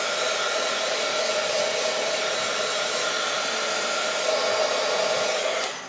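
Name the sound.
heat gun drying pigment ink on a card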